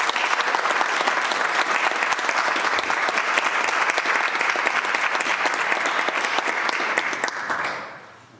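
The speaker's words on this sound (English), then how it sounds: "let's give Renee a round of applause for 5 years of dedicated service to the city" A city council meeting crowd gives a retiring staff member a long, loud round of applause, dense clapping that holds steady for several seconds before tapering off at the end.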